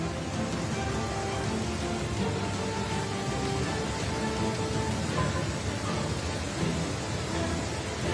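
Heavy rain falls during a severe downpour in Sikkim, producing a steady, loud, unbroken roar of water with no voices.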